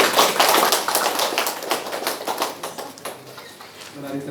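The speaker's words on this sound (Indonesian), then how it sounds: "Kita beri tepuk tangan" Guests applaud at a Catholic church wedding ceremony, a dense burst of clapping that starts loud and gradually thins and fades, with a faint voice or tone near the end.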